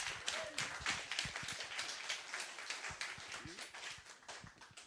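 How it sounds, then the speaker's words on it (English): Audience applause at a press conference for the Bristol Rhythm and Roots Reunion music festival: a steady, fairly close patter of many hands clapping that carries on for several seconds, with a few scattered voices underneath. "Give him a big round of applause."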